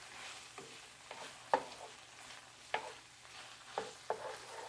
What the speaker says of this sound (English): Add a little pinch more of that house seasoning and give it a stir.